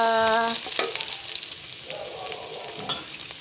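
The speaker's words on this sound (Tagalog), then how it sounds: "Pinipritos ko muna po siya." Chicken pieces fry in olive oil at the start of a home chicken curry, giving a steady close sizzle with a few stirring scrapes and clatters over it. The frying runs throughout, and no one speaks.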